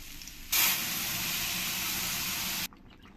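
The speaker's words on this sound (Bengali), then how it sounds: "এবার আমি এর মধ্যে এই কুশি ডালটা দিয়ে দেবো।" Lentils tipped into a pan of well-browned fried onions, setting off a sudden loud sizzling hiss that holds steady for about two seconds, then cuts off sharply to a faint background.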